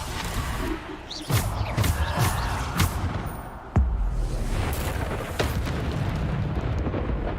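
Bombarda blasting spells cast in Hogwarts Legacy during combat, with several sharp booming explosions at irregular intervals over a rumbling background.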